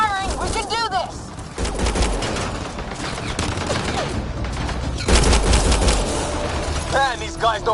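Sustained rapid gunfire and fusillades in the sci-fi shooter Mass Effect: Andromeda, loud and close, with bursts surging through the clip amid game sounds and brief shouted voices.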